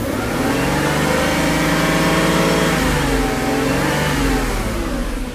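A Mercedes V8 engine revving steadily under throttle after a throttle body repair, loud and close with a sustained rising and holding mechanical roar, no talk.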